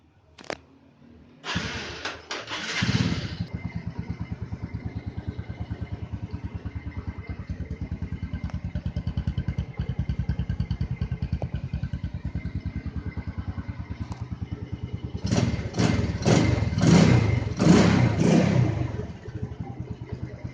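A 2003 Yamaha Jupiter Z (5TP) motorcycle engine starts after a brief click, settles into a steady close idle, then revs up hard in several quick throttle blips near the end, with no talking.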